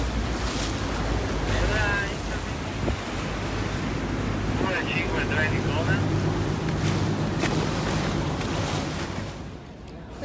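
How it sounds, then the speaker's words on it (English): Motorboat water taxi crossing choppy waves on the approach to Venice, a steady rumbling engine and rushing water with heavy wind buffeting throughout, continuous and close. "Just got on our water taxi."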